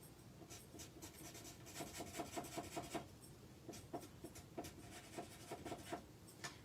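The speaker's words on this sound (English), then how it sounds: "We are going to use our chisel end at the marker to fill it in faster and keep it wet." The chisel tip of a marker scrubbing back and forth across paper while coloring in, a soft, faint, steady scratching with quick rhythmic strokes throughout.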